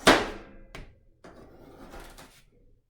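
A knife cuts a vegetable lengthwise into strips for stir fry, with one sharp, loud chop against the board followed by softer, scraping cuts and light taps.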